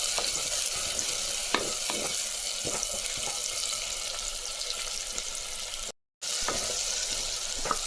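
A small chopped onion sautés with mustard seeds in a hot pan for a bean curry, giving a loud, steady close sizzle with occasional stirring clicks and a brief dropout near the end.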